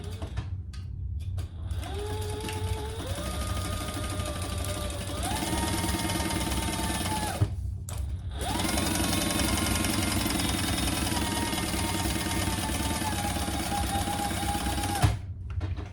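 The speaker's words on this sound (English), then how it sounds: "we're gonna sew the slip pocket together with the seam lines in the pattern" A sewing machine stitches the slip pocket pieces of a handmade tote bag together, its steady motor whirring in long continuous runs with brief pauses between seams, close and clear with no talking.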